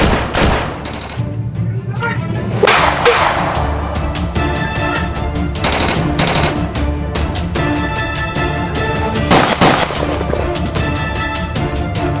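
Rapid bursts of gunfire crackle almost nonstop, with heavy automatic volleys and sharp booms layered over game sound effects and occasional shouted voices.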